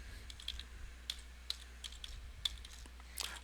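Soft, steady typing on a computer keyboard, with irregular light key taps entering a DNS zone name, faint over a low background hum and with no talking.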